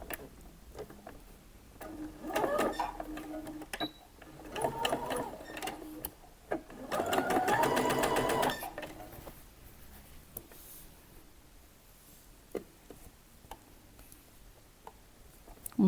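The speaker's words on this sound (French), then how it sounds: "on positionne au niveau de la machine et on coud à 1 cm" Sewing machine running a 1 cm seam on a summer dress, in several short bursts of rapid mechanical stitching chatter separated by quieter handling pauses, close by with no voice.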